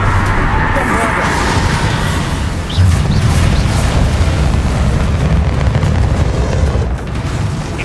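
Bombarda spell blasts in the Hogwarts Legacy video game, a deep sustained boom that jumps louder near three seconds and rumbles on, with lighter crackling pops above and voices talking throughout.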